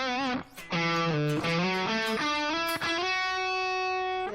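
A distorted electric guitar plays a short lead phrase of bent and sliding notes, ending on a long sustained note with a reverberant tail.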